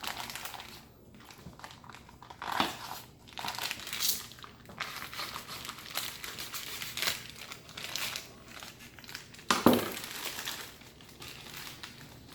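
Plastic packaging around a Black Angus sirloin beef cut is sliced and pulled open, giving close, quiet bursts of crinkling and crackling that come in irregular bunches, with one sharper tearing rip near the end.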